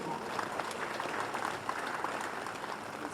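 Audience applause for Uganda's police, prison and intelligence services at a political address, a steady dense wash of clapping holding at an even level for the whole stretch without clear cheers.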